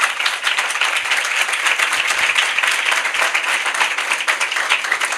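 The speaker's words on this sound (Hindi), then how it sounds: "हम सब यीशु मसीह के लिए ताली बजाएं।" A church congregation applauding together, a dense steady wash of many hands clapping at even loudness throughout, with no voices standing out.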